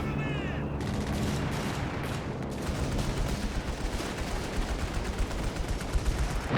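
Machine-gun bursts and artillery rumble from the Company of Heroes 3 battle on Monte Cavo roll on as a dense, continuous barrage, loud and unbroken, with the rattle of automatic fire layered over heavy booms.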